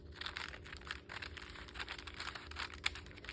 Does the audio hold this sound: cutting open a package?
yes